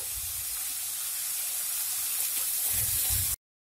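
Onions frying with salt in a pan produce a continuous hissing sizzle with low bubbling underneath, swelling slightly before cutting off abruptly.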